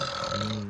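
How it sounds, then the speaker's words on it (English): A single short human burp, brief and fairly close, rumbling for under a second. "Did you just burp"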